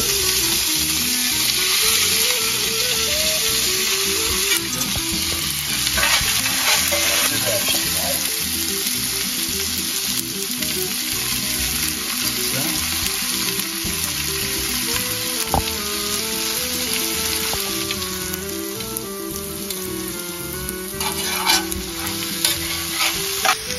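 A mirepoix of chopped celery, carrots and onions sizzles steadily in a pan on reduced heat while being stirred. The frying is loud and continuous, with scraping stirs throughout and no talking over it.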